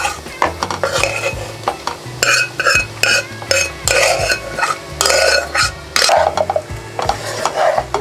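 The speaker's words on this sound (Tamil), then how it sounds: "இப்போ நான் இந்த குக் பண்ண ரைஸை அதில் போட்டு மிக்ஸ் பண்ணிடுறேன்" Cooked rice being stirred into a chickpea and spinach mixture in a pan, with repeated scraping and clinking of a spoon against metal over a soft sizzle, close and rhythmic.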